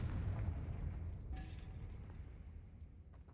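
A Confringo fire spell blasts in Hogwarts Legacy, a loud low rumbling boom that rolls and slowly fades over a few seconds, with no talking.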